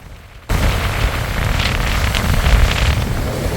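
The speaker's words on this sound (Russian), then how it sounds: "на эти выходные сплошной ветер. Послушайте, как он ревет в дуэте с Амуром." Strong wind roars by the Amur river, coming in suddenly after a brief quiet moment and then holding as a loud, steady buffeting rush with gusty swells.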